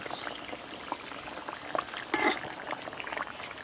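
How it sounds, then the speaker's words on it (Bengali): Fish curry gravy bubbles steadily in a pan, a soft continuous simmer with scattered pops and one brief louder splash partway through, with no voices. "ঝোল খুব সুন্দরভাবে ফুটে উঠেছে"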